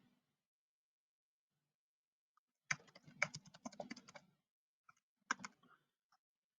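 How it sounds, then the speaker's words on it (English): Computer keyboard typing comes in quiet bursts of quick clicks, a longer run followed by a few scattered keystrokes, close and faint with no talking. "As usual, my typing's terrible."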